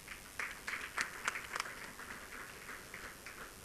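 Scattered audience applause at a hotel conference opening ceremony, with a few sharp nearby claps standing out over a faint, thin spread of clapping from a distant crowd.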